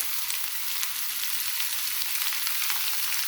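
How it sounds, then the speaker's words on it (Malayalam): Sliced onions sautéing in ghee for prawn biryani give a steady, dense sizzle that holds evenly from start to finish, close and fairly loud, with no one speaking. "ഇതേ നെയ്യിൽ തന്നെ നമ്മൾ ചെറുതായിട്ട് നെയ്യത്തായിട്ട് അരിഞ്ഞിട്ടിരിക്കുന്ന ഉള്ളി ഒന്ന് വഴറ്റിയെടുക്കാം"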